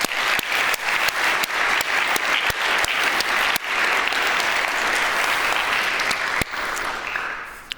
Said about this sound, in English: I think we should give this team a big applause